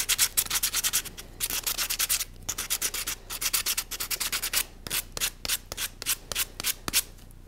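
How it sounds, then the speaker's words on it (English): Sandpaper rubs over a dried daruma figure in quick, rhythmic strokes, a close scratchy swishing repeated in bursts with brief pauses between. "I'll smooth out any rough spots with a little bit of sandpaper."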